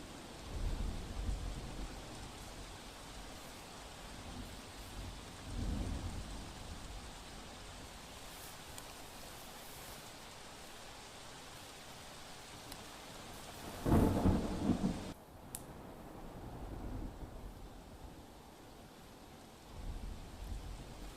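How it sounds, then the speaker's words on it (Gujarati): Heavy rain pours down during a thunderstorm with strong winds in Gujarat, a steady roar of rain broken by several deep rumbles of thunder, with one loud close crash near the middle. "ધોધમાર વરસાદ।"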